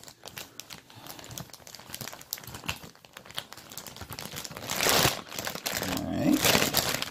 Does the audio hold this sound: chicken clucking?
no